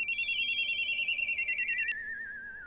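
Telephone rings with a rapid warbling electronic trill, several quick pulsing bursts that stop abruptly, leaving a fading tone, clear and alone with no talking.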